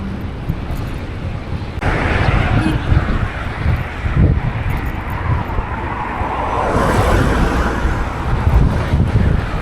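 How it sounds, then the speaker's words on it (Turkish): Strong wind roars and buffets against a moving car in Antalya, a loud, rushing, uneven noise that swells and dips over road rumble. "bugün Antalya'da sabahtan beri durmayan rüzgar var"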